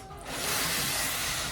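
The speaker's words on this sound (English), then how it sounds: "I'm gonna spray this" A steady aerosol spray hisses close by onto a shoe, starting after a brief quiet moment and continuing evenly without pause.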